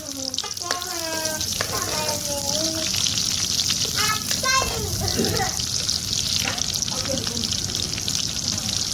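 Chopped onions fry in hot mustard oil in a kadai with a continuous sizzling hiss, while children's voices chatter over it in the background.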